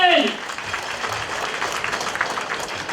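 An audience at a Taishan community fundraising event applauds a speaker taking the stage, a steady wash of clapping from a crowd that starts just after a voice finishes and continues evenly.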